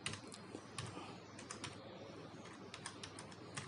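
Rapid, fast-paced clicking of keys as code is typed on a computer keyboard, close and fairly quiet, with no talking.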